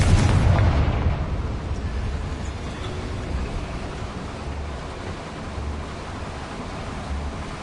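A Confringo blast spell bursts in Hogwarts Legacy, a loud, dense roar right at the start that decays into a long, steady rumbling wash with no voices.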